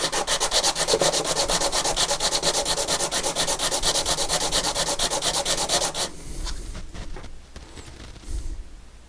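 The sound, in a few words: sanding metal saxophone parts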